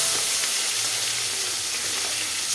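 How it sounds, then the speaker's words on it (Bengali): Hilsa fish pieces fry in hot oil in a pan, a continuous bright sizzling hiss held steady and close, with no talk. "মাছটা আমি উলট পালট করে একটু ভেজে নেব"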